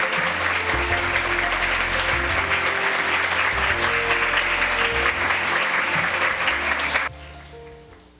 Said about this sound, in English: Let us welcome him with a round of applause.